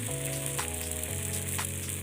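Spicy pancake batter frying in a pan over low heat gives a steady, close sizzle that runs throughout with no talking, while a low pitched hum holds underneath.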